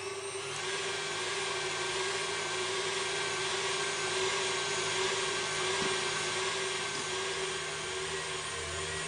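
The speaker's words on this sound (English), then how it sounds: "whisk these whites until they're sort of well and frothy" An electric whisk beats egg whites to a froth, a loud steady whirring drone that holds unbroken throughout with no talking.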